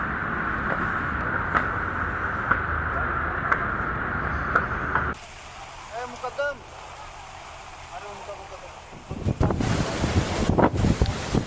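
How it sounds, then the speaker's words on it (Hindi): Strong wind driving rain outdoors in Vasai near Mumbai, heard as steady broadband roaring noise with wind buffeting, a brief quieter stretch with faint chirps, then gusts surging loudly again. "देखिए किस तरह से तेज हवाओं के साथ अभी भी बारिश का दौर जारी है।"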